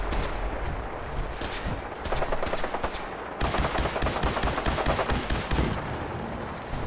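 Rapid gunfire in the video game Fallout 4 with the America Rising 2 mod, loud dense bursts of automatic shots that grow more intense partway through, with no voices over them.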